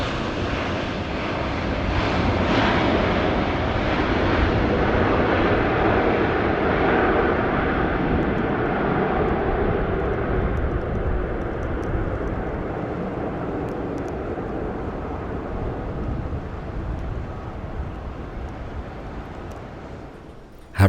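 Kenya Airways airliner engines at the airport, a loud broad roar that fades gradually over about twenty seconds, with no speech.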